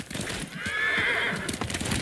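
A horse whinnies loudly in Ghost of Tsushima, its neigh rising and falling over about a second, with hoof clops and background game ambience around it.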